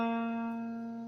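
A single guitar string plucked for tuning, a steady sustained tone with rich even overtones that slowly fades, quiet and close with no talk.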